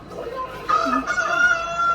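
A rooster crows nearby, one long drawn-out call rising and holding, over a soft background murmur.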